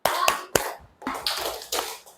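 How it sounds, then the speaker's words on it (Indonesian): A school class performing a concentration clap routine: a rhythmic sequence of sharp group claps, a few quick together then a pause, followed by a longer run, close and fairly loud. "Tepuk konsentrasi."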